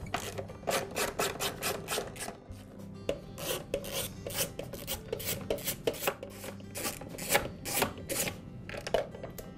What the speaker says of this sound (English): Now there's a series of screws on the underside of the mower that we need to remove.